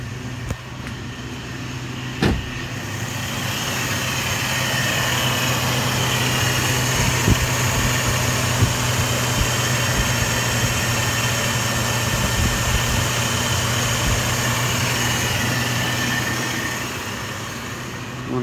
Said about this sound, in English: And we'll just let that idle.